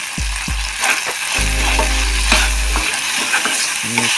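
Chicken chili with capsicum, onion and cumin powder fries loudly in a pan while a utensil stirs it, giving a dense continuous sizzle punctuated by repeated scraping and clanking strokes, with no voices.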